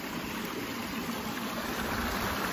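Water flows in a creek at Drift Creek Falls, Oregon, a steady soft rushing and burbling that stays even and continuous without voices.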